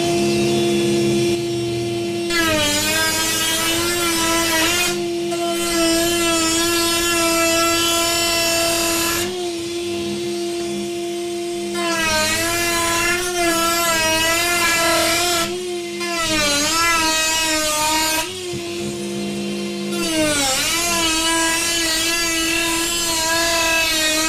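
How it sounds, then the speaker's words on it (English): A loud, high-pitched Dremel rotary tool whines continuously, its pitch dipping and rising as it trims plastic stormtrooper armour, with brief pauses between passes. "First, we're going to use the Dremel."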